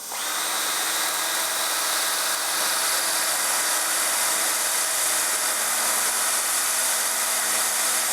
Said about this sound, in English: Now this is a really fine belt, and I try to use a fine belt when I'm doing tungsten to keep the grooves out of it.